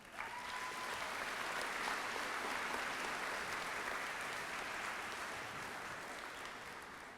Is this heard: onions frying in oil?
no